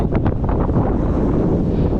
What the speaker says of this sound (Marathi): अचानक जोराचा वारा सुरू झाला आहे